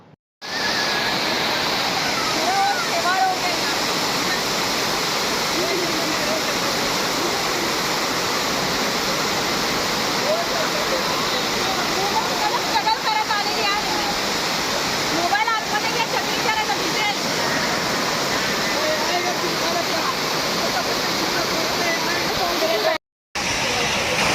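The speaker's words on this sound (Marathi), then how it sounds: "बघा वॉटरफॉल खूप छान असं वाहतं पाणी बघून मन प्रसन्न झालं" A waterfall in the rain rushes loud and steady, with a broad continuous roar of falling water that fills the scene. It cuts out briefly near the end.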